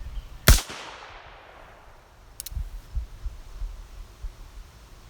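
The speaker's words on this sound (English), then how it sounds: "I will shoot the last one double action" A single sharp revolver shot from a Colt Trooper Mark III in .22 Magnum fired double action, one loud near crack with a short decaying tail, followed by low rumbling handling noise.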